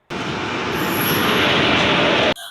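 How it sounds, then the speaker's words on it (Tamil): A Chennai Central to Tirupati Garudadri Express train pulls into a station, a loud, steady rush of wheels and carriages with a high metallic squeal, cutting off abruptly near the end. "இப்போ நான் போக வேண்டிய ட்ரெயின் வந்துட்டு இருக்கு. Chennai central to Tirupati Garudadri express."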